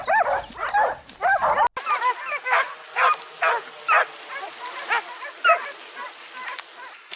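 Hunting dogs bark and yelp repeatedly during a wild boar hunt in Turkey, a string of sharp, fairly close barks at an uneven pace, with a sudden cut partway through.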